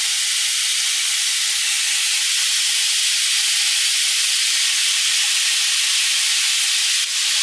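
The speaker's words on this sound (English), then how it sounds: "you're going to add the patties one at a time in there." Hamburger patties in a hot pan make a loud, unbroken hissing sizzle, close and steady for the whole stretch, with no voices over it.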